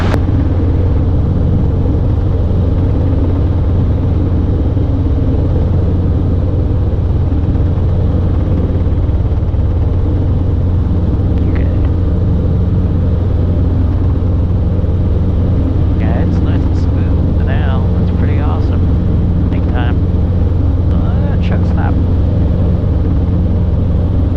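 A Robinson R22 helicopter in flight drones with a loud, constant engine and rotor rumble throughout, close and unbroken, with faint radio chatter briefly audible over it.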